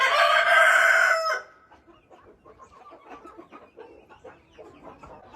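An Isabel Ameraucana cockerel lets out one loud, close crow, followed by a quieter scattering of chicken clucks that carry on in short, uneven bursts.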